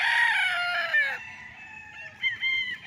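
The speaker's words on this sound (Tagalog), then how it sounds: "At ang daming alagang manok." Chickens cluck and a rooster crows on a farm lot in Liliw, Laguna, loud and close, with several birds calling over each other and no voices.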